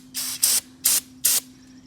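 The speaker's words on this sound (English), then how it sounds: "I'm gonna blast it with brake cleaner" Aerosol brake cleaner blasts onto a dirty Southern reel mower in four sharp hissing bursts, two close together and then two spaced apart, loud and near, with a faint steady hum underneath.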